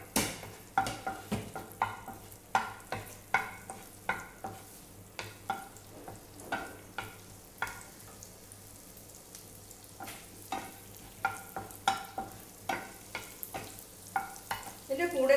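Chopped garlic dropped into a pan for veg bread pizza pockets, with repeated scraping stirs and clinks of a utensil over a faint sizzle, steady rhythmic strokes close by with no talking.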